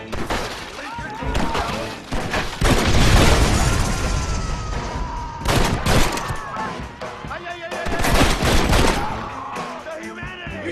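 Gunfire in Red Dead Redemption: loud bursts of shots and booms come in waves, with rapid volleys and shattering crashes. Voices talk over the shooting, and it continues through most of the span.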